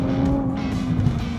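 A supercar launches hard from a standstill, its engine a loud, steady roar held at high revs throughout the short burst, close and unbroken.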